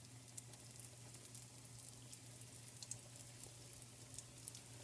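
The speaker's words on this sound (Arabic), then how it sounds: "سو غادي نبدا دابا نقليهم" Beignet dough frying in hot oil, a soft, steady sizzle with fine crackling pops and a low hum underneath, faint and continuous with no talk.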